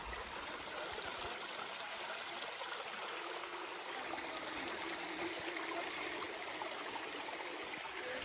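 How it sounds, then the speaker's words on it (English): Steady broadband rush of a mountain stream flowing in the Himalayas, continuous and fairly close, with no voices or other sounds over it. "Listen to the water."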